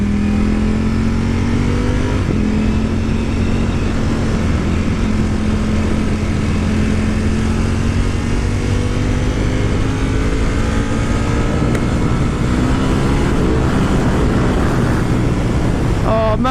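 A Ducati Panigale V4 S motorcycle engine pulls hard in second gear on the road, a loud, continuous close-up drone whose pitch climbs steadily as the bike accelerates, with rushing wind throughout.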